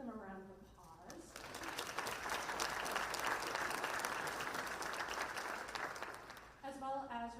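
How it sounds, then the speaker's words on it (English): Guests at a city State of the City luncheon give the presenting sponsors a round of applause, a sustained wash of clapping between bits of speech at the start and end, all fairly quiet and distant. "Can I give them a round of applause?"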